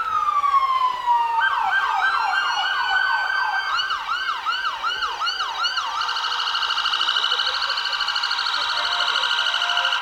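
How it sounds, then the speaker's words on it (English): Police car sirens wail and yelp loudly and close by during a Christmas parade in Harriman, shifting between rising sweeps, rapid warbles and a steady high whoop with a faint roar of traffic underneath. "And here come the sirens."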